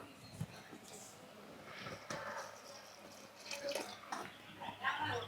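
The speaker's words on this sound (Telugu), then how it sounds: "వాటర్ కానీ సరిపోకపోతే ఇందులో కొంచెం వాటర్ వేసుకుందాము" Water poured into a pot of cooking moringa leaf dal, a soft intermittent splashing and trickling at close range mixed with kitchen clatter and a voice speaking.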